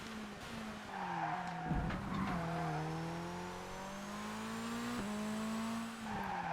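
A race car in ToCA Race Driver 2 skids under the handbrake, a sustained tire squeal over the steady, loud engine drone, with the pitch shifting as the car slides.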